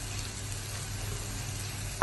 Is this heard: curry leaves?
yes